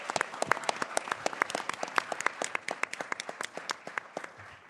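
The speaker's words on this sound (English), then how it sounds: "Let's just have a quick round of applause for our contestants one more time." A small group at a moot court competition final claps for a few seconds, sharp individual claps clearly audible, moderately close and fading slightly near the end.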